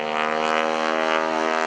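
A 450-horsepower Stearman biplane engine pulling up into a hammerhead stall turn at the Greenwood Lake airshow, a loud, steady, droning propeller roar with a strong harmonic buzz that holds throughout, no voices.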